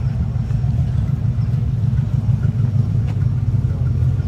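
Steady low rumble of a big V8 car engine, a possible 426 Hemi, at a classic car cruise-in, running continuously and fairly loud with no voices.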